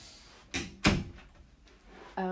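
A house door bangs open and shut as children arrive home, two sharp knocks and a heavier thud close by, followed by a brief voice at the end.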